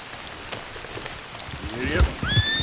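Rain falling in the video game Red Dead Redemption 2, a steady patter of drops on surfaces, with rising whistle-like tones and low thumps joining near the end.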